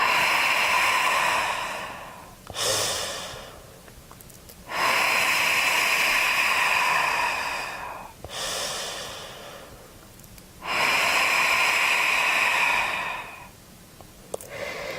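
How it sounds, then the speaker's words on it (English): Slow, deep belly breaths during a yoga exercise, with long airy inhales and exhales alternating in a steady rhythm close to the microphone and no talking. "So inhale, flop. Exhale, scoop in."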